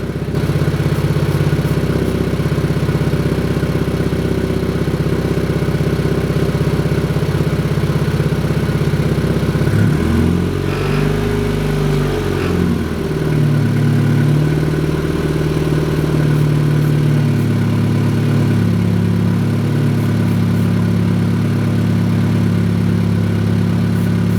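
An engine idles steadily and loud while brake cleaner is sprayed at it, a constant low rumble with a brief wavering dip in the middle, no voices.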